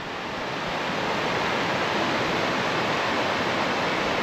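Water rushing down beside a mountain road on Route 955 between Claveria and Gingoog, a steady, loud broadband roar with no break and no talk.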